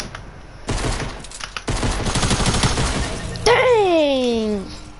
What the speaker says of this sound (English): Those things can shoot!